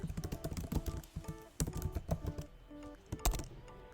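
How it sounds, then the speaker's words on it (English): Rapid keystrokes on a computer keyboard, a quick run of close, crisp taps with brief pauses between bursts, alone and fairly quiet. "So I'm gonna type that out."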